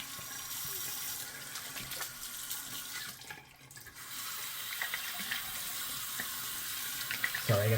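Water runs from a tap into a sink while someone rinses off after shaving, a steady close hiss that dips briefly mid-way, then resumes with splashing and a short clunk near the end.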